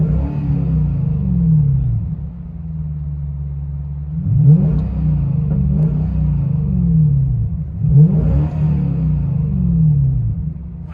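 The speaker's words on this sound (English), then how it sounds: "Lexus SC430 V8 DYNOMAX race bullets, true dual straight pipe with blue tips" A 2002 Lexus SC430 4.3L V8 with Dynomax race bullet true dual straight-pipe exhaust rumbles deeply and loudly at idle, then revs up twice in rising and falling swells before settling back, with no talking.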